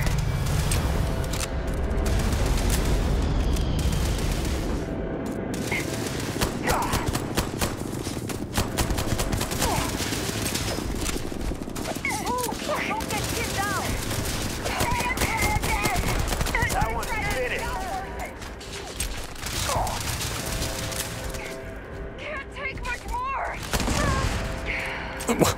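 Gunfire in the sci-fi video game Starfield rattles in repeated bursts of shots across the whole stretch, mixed with other game sounds and partly under voices talking.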